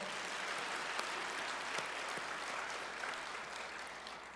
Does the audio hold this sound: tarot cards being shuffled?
no